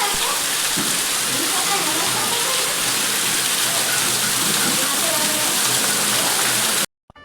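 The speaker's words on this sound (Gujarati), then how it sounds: "વરસાદ અત્યારે પાછો આગે પડી ગયો ચાલુ થયો છે." Heavy storm rain pours down in a loud, dense, continuous roar close by for nearly seven seconds, then cuts off abruptly.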